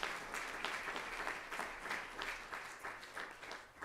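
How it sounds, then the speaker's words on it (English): Audience applause at an education summit, a sustained round of clapping from a crowd, dense and even, gradually thinning toward the end. "if you could all join me with a round of applause for these three"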